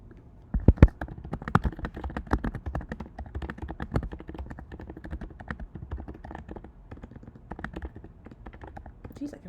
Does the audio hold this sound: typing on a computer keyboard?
yes